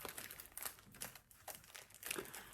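Crinkly plastic wrapper of a tiramisu-filled chocolate bar being torn open, with quiet, close rustling and crackling bursts that come in short irregular pulses.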